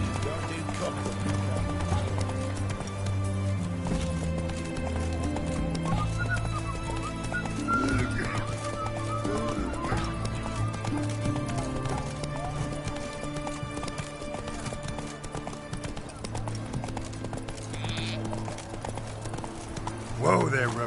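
Roach, a horse in a video game, gallops with steady rhythmic hoofbeats and an occasional whinny, heard under game music and ambience for about twenty seconds.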